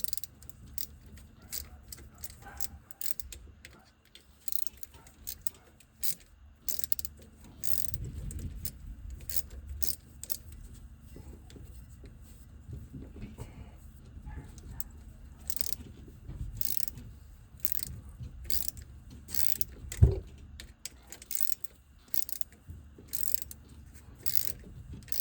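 A 3/8-inch ratchet works a bolt on an NV4500 transmission under a 2001 Dodge Ram 2500, giving a long run of quick, close clicking pawl ticks in steady bursts with occasional metallic clanks and no talk.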